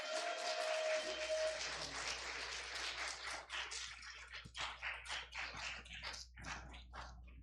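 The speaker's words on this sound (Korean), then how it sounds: "큰 박수 부탁드리겠습니다." A church congregation in Seattle breaks into applause during a Sunday service, starting as a dense wash of clapping that thins into scattered, separate claps, fairly quiet and reverberant.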